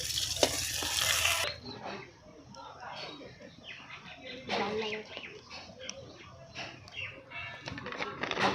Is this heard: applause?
no